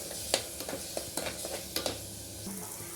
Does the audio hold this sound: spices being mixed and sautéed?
yes